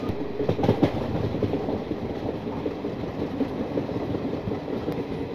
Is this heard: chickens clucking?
no